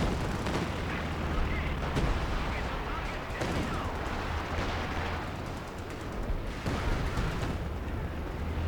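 A Company of Heroes 2 artillery barrage thunders continuously in dense, overlapping blasts and rumbling explosions during a 3v3 Across the Rhine match, with a voice talking faintly underneath.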